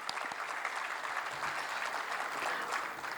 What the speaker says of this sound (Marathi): आयाम नाशिकच्या सगळ्या उपक्रमांसाठी आपण एकदा कडकडीत टाळ्या होऊन जाऊ देऊया